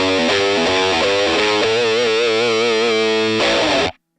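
An electric guitar runs through a Headrush 2 effects unit with amp distortion, drive raised and tone adjusted, ringing out a heavily overdriven sustained chord with wavering vibrato that cuts off abruptly at the end.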